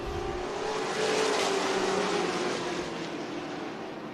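Modified race cars battle nose to tail at Tucson Speedway, a continuous loud engine roar that swells and then eases slightly as the cars pass, with no talking.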